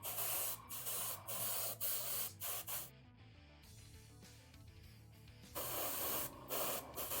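Airbrush paint spraying onto a model figure, a run of short hissing bursts followed by a pause and then longer sustained sprays, close and fairly loud with no talk.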